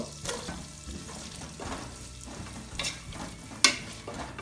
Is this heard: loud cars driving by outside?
no